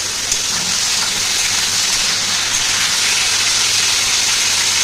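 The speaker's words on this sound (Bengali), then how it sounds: "তো দিয়ে দিলাম কুমড়ো আলুগুলো, এবার একটু নাড়িয়ে দেবো" Pumpkin and potato pieces frying in a pan for a vegetable curry, giving a loud, steady hiss of sizzling oil that carries on without a break throughout.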